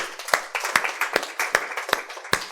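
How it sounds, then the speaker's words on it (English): Steady rhythmic clapping from a small group at a patient education presentation, about six evenly spaced claps, fairly close and moderately loud. "Give her a round of applause."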